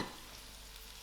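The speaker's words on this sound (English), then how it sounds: "My lentils has been frying for about 3 minutes" Steady, quiet sizzling of lentils (masoor dhal) frying in a pan, a continuous soft crackle with no talking.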